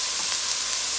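Bora and dried anchovy ingredients frying in about a teaspoon of oil in a pot, a steady bright sizzle with no break or voice over it.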